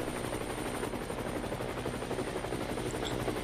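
Helicopter flying in the VR video game Battlefield VR: a loud, dense rotor-and-engine roar that holds steady for the whole stretch with no pauses.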